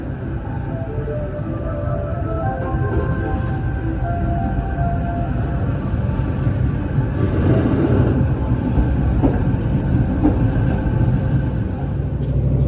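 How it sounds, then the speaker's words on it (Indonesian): A steady, heavy rumble of the Kaligung passenger train departing Pekalongan station, rolling along the rails and building slightly as it gets underway, with no voices. "Pukul 18:48 kereta api Kaligung diberangkatkan kembali dari stasiun Pekalongan."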